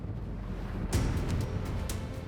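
Strong wind roars steadily across the microphone on a sailboat at sea, with broad rushing noise, a few sharper gusts and slaps breaking through, no voices.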